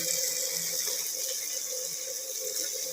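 Water pours steadily into a pan of ridge gourd being cooked with tamarind, a continuous close splashing gush with no talk.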